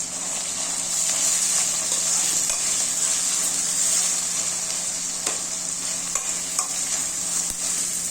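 Onion and tomato frying in a pan while being stirred, a steady close sizzle with scattered scraping and clinking stir sounds throughout, no voices.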